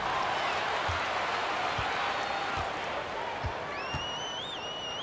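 Continuous crowd applause and cheering fill an arena in the NBA 2K23 basketball video game during a Lakers–New York game, with occasional ball bounces thudding through and a brief squeak of sneakers.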